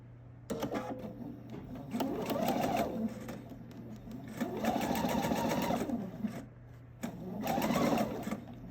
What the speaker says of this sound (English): I can line this up to sew